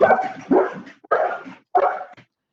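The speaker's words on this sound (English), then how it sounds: "oh, that was the dog." A dog barks three times, close and loud, during a selectmen meeting, each bark a short whimpering burst with brief silences between.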